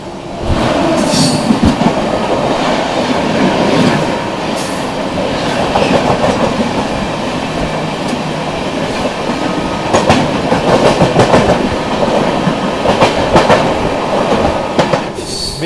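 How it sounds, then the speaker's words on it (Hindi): A Bikaner–Sarai Rohilla AC Duronto Express passes close by, a loud, continuous rumble of wheels and carriages with rhythmic clatter and brief metallic squeals throughout. "चलो दोस्तों सामने से आ रही है बीकानेर शारदा AC दुरंतो एक्सप्रेस"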